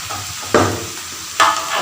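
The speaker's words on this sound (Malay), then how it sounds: "Dan tumis chili ni dengan tomato." Blended red chili and tomato sauté in a hot pan for chicken sambal with soy sauce. A soft sizzle runs underneath, broken by two sharp stirring bursts.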